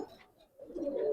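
Pigeons, giribaz and colored breeds, coo softly in a short low burst that rises slightly toward the end, close by and with no talking.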